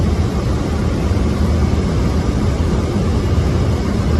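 Airbus A330 airliner landing in fog at Milan, Italy: a steady, loud broadband roar of jet engines and rushing air, constant and close throughout with no voices.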